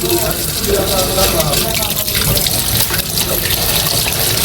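Water gushes steadily from a tap into a sink, loud and close, running continuously with a voice speaking briefly over it.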